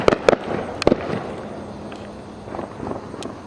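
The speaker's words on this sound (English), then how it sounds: "the sky is like lit up by fireworks" Fireworks pop on the Fourth of July at night, several sharp distant bangs in quick succession early on, then fainter scattered cracks and rumbles.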